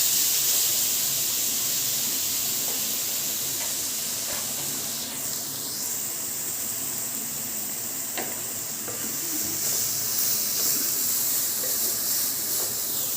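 Grated carrots sauté in ghee in a pan for carrot halwa, giving a steady, close, broad hiss that holds evenly throughout with no voices.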